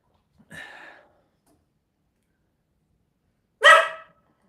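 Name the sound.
dog barking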